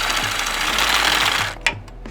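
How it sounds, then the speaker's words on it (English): A small DeWalt impact driver works on bolts during an AC compressor replacement on a 2002–2006 Honda CR-V, giving a loud, close, steady whir that cuts off abruptly after about a second and a half. "I use my little DeWalt impact driver quite a bit."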